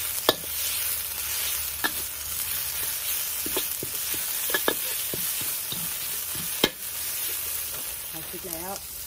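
Chili stir-frying in a pan sizzles continuously beneath sharp, irregular scrapes and clacks from a utensil, with a faint voice briefly near the end.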